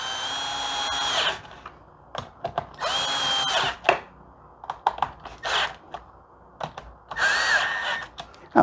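Tightening screws on the coil pack of a Stihl MS 260 chainsaw with a power drill or driver, several short whirring bursts of a second or so each, close and fairly loud, separated by pauses and small clicks.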